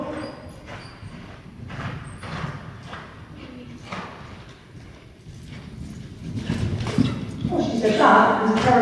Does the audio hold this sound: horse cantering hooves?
yes